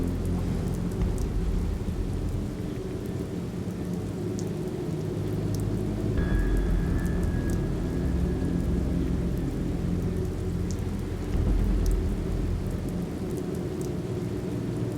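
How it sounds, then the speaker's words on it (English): Steady rain pours down with a low, continuous rumble of thunder rolling underneath during a thunderstorm; no voices, just the dense wash of the storm. "It's raining again."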